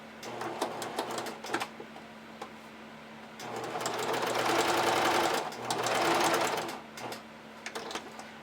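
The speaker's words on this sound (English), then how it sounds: "you can pin this seam and stitch it together with a 1/2 inch seam allowance" A domestic sewing machine stitching the side seams of a pair of panties with a hip ruffle, running in short stop-start bursts and then two longer steady runs of rapid needle chatter, close and clear with no talk.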